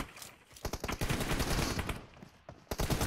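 Rapid bursts of gunfire in the mobile battle royale game PUBG Mobile, several sharp volleys fired in quick succession with brief gaps, loud and close, no talking.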